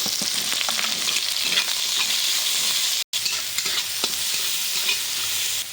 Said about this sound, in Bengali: রসুনটা একটু ভাজা হয়ে গেছে, এবারে দিয়ে দেবো পেঁয়াজ।